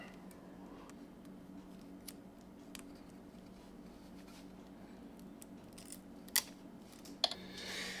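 A motorcycle brake reservoir hose, on a Yamaha R1 fitted with a Rizoma rear reservoir, is cut shorter. Two faint, sharp snips stand out against a quiet hum and a few light clicks.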